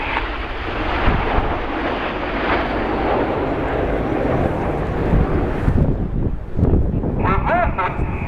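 Red Arrows BAE Hawk jets roar past in Swan formation at an airshow, a loud, continuous broadband engine rush with wind buffeting the microphone, easing slightly near the end.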